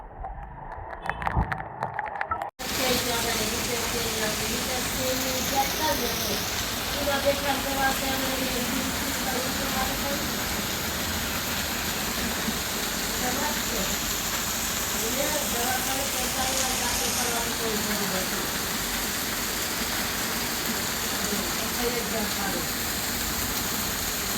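Heavy rain pours in Junagadh as a dense, steady roaring hiss that begins abruptly after a short, muffled opening and continues unbroken, with faint voices in the background.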